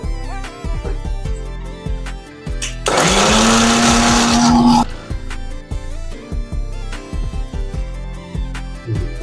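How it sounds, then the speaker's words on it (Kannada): Mixer grinder whirring as it grinds spice paste with sambar powder, salt and water in the jar, a loud steady buzz of about two seconds between quieter kitchen clatter and background music. "ಈಗ ಮಿಕ್ಸಿ ಜಾರಲ್ಲಿ ಹಾಕಿರೋ ಐಟಮ್ನೆಲ್ಲ ರುಬ್ಬನ."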